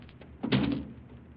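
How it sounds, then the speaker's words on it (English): A wooden door closes at a moderate distance in a 1938 radio drama, one soft thud with a brief rattle standing alone in a quiet room. "Close that door after you."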